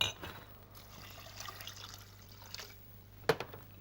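Water poured into a cooking pan holding sweated vegetables, white wine vinegar and white wine, heard as a low trickling liquid sound with faint sizzle and a sharp metallic clink near the end, close and without speech.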